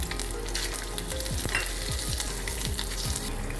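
Garlic and red chillies frying in a little oil over a low flame for a flaxseed, sesame and peanut chutney, a steady close sizzle with a run of quick rhythmic scraping stirs, no voices.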